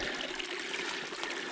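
A stream of flowing water in Loyalsock State Forest runs as a steady, close, broadband rush and trickle with no breaks, heard alone with no voices.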